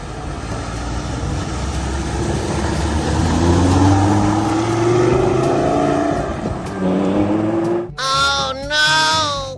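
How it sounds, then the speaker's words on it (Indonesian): A sports car engine runs loud and close with rising revs and a sustained roar, then stops abruptly and gives way to short bursts of a high, warbling electronic sound at the end. "Di sini ada mobil sport teman-teman."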